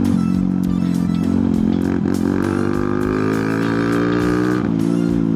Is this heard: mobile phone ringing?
no